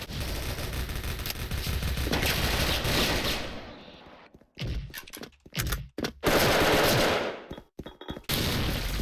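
Tiger Galil assault rifle firing in the Special Force online shooter: a long, loud stream of automatic gunfire, then short choppy bursts broken by brief silences, and a final sustained volley.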